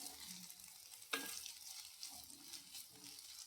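Rice and curry leaves are stirred with a ladle in a hot pan, making a soft, faint, continuous sizzle with light scraping and one brief sharp clink partway through.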